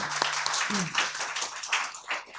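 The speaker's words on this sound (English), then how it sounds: "Let me have a round of applause for all of our panelists here today" Conference audience applause for the panelists after a policy discussion, a brief steady wash of clapping with a faint tone and a voice under it.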